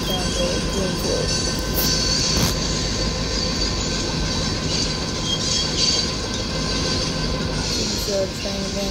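A 100-car train in a train and rail yard simulator game rumbles by with rolling wheel noise and occasional metallic clacks, loud and continuous, with a faint squeal near the end.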